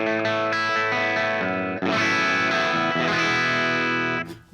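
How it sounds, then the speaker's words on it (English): An electric guitar runs through a ToneX ONE pedal set to a Marshall amp tone, strummed chords ringing with crunchy, driven distortion, loud and sustained, ending with a sudden cut. "Now it's a Marshall sound."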